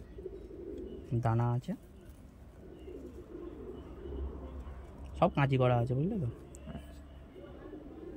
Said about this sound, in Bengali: বন্ধমের পায়রা।